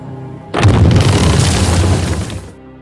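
A single loud small-scale atomic bomb test explosion bursts out suddenly, a deep rumbling boom that roars for about two seconds before fading off.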